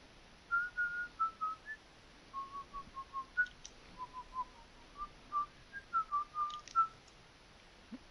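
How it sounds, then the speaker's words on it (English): A person whistles a tune alone, a string of short clear melodic notes and phrases rising and falling in a steady rhythm, fairly quiet against faint background hiss. "You in a whistling mood"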